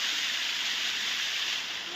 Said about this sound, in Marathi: विहिरीत पाणी सोडलंय नळाचं.